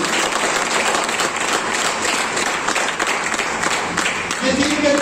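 A seminar crowd in an Indian town hall claps loudly and continuously in sustained applause, with a voice speaking over the clapping near the end.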